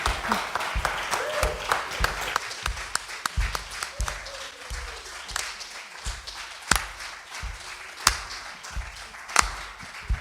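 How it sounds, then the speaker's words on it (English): A church congregation claps along in rhythm, a steady run of sharp, fairly quiet hand claps repeating for about ten seconds, with faint voices underneath. "Y'all could just keep clapping with it."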